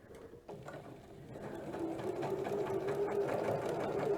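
A sewing machine runs steadily while stitching the binding onto a quilt, a continuous close mechanical whir that builds slightly after a short start and holds even, with no talking.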